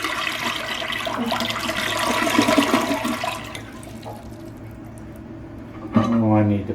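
A repaired toilet that had been clogging is flushed: a loud, close rush of draining water swells and then fades into a quieter trickle, followed by a brief burst of a voice near the end.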